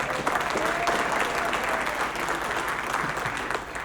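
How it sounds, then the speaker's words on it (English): An audience at a Darwin Day scientific presentation gives a loud, steady round of applause, dense clapping filling the room for several seconds without talk. "Round of applause for him."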